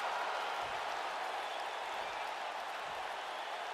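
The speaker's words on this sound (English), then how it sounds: "the crowd is loving Sasha's act" A wrestling arena crowd roars and cheers steadily throughout a women's tag-team match, a dense, sustained wash of noise with no breaks.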